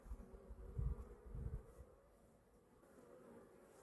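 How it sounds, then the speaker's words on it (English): Honey bees buzz steadily around an opened hive in the early morning, a soft humming drone with a few louder swells as bees pass near. "the bees are a bit active like"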